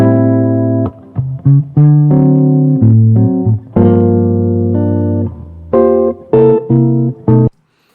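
The original melodic music sample, before chopping and pitching, plays in phrases of sustained tones with brief gaps, ending abruptly after several seconds.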